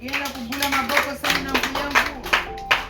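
A church congregation claps steadily in rhythm during a French thanksgiving service, the hand claps blending with music and singing voices.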